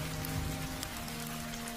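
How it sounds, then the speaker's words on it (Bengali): Steady, misty rain falls at night on a path near a cremation ground, a dense, continuous patter over a low hum, with no voices. "কুয়াশার মতো বৃষ্টির জল ছড়িয়ে পড়ছে"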